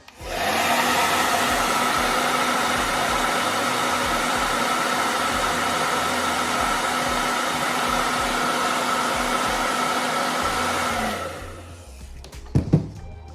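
A hair dryer blows steadily and loudly for about eleven seconds to dry Angelus acrylic leather paint on sneakers, then cuts off, followed by a couple of faint handling knocks.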